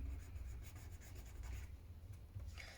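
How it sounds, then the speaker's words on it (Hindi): Pen writing on paper during a math lesson, soft scratchy strokes in quick bursts, close and faint with no speech. "स्टेटमेंट में लिखती हूँ"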